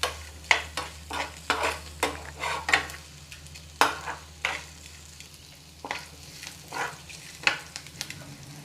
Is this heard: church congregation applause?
no